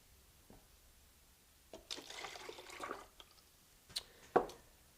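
Liquid solution drips and splashes in scattered bursts into containers sitting on a workbench cubby, quiet at first and then a few sharper, louder drops toward the end; no voices.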